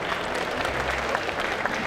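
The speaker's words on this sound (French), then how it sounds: "On les applaudit encore s'il vous plaît." Spectators at a geek convention cosplay contest and catwalk applaud a group of performers, a thick, sustained round of crowd clapping with a faint murmur of voices underneath.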